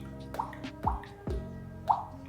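A voice imitates a drop of water falling into a bowl, making three or four wet, plopping drip sounds in a row, close and clear with short pauses between them.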